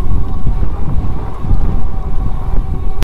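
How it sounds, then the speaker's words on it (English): Strong wind roars across a sandy trail, a heavy, continuous rumble of gusts buffeting the microphone for the whole stretch. "You can see how windy it is."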